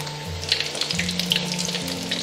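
Oat-coated cucumber sandwiches deep frying in a shallow amount of oil over low heat, a soft continuous bubbling sizzle with tiny pops, close and even throughout, no speech.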